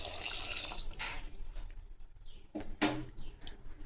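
A tumbler of water poured into a cooking pot of tomato kuzhambu, a short splashing gush followed by faint trickles and a light clink, quiet and close.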